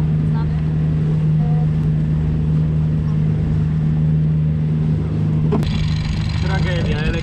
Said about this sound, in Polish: Tragedia, elektryczny kapestan po prostu